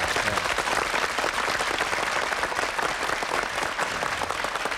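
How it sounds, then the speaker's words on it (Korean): Steady, loud applause from a large audience, continuous clapping filling the whole stretch without a break. "여러분 박수 한번 힘차게 보내주십시오"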